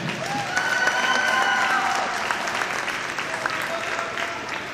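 Steady audience clapping for young swimmers at a 10-and-under divisional swim meet, a moderately loud, even patter of applause in a reverberant natatorium with faint whistle tones on top.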